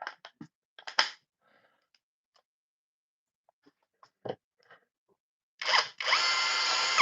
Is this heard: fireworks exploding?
no